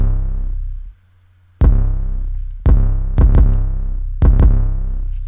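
A hip-hop beat built around a deep, booming 808 bass with the lows cut and the mids boosted, its heavy sustained notes hitting in a loose rhythm after a brief drop to near silence, loud and alone.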